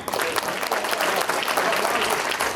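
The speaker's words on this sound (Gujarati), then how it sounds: "તાળી પાડો ભાઈ." An audience at the Bajipura village convention in Orlando claps in steady, dense applause, fairly close and sustained for the full stretch with no talk over it.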